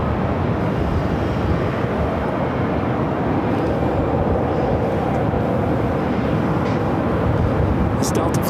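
A Virgin Airbus A350-1000 airliner taxis toward the north side gates at LAX's Tom Bradley terminal, a steady broad engine rumble holding at even loudness throughout, with faint higher hiss near the end.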